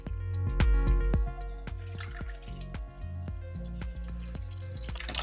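Hot water at 60 degrees Celsius poured from a tap into a container for a homemade sneaker cleaner, a close trickling and dripping stream with sharp splashy drops, loudest at the start and then steady.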